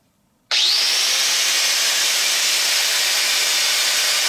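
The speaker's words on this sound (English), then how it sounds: "get the grinder out, cut it out." An angle grinder bites into a metal plate clamped in a vise, starting abruptly after a brief silence and holding a loud, steady, high-pitched cutting whine to the end.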